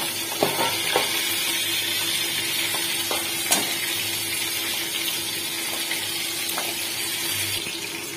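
Pumpkin greens tipped into a hot pan with washed mung dal give a steady, moderate sizzle and hiss throughout, with a few soft clinks and stirring taps on top.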